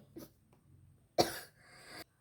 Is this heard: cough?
yes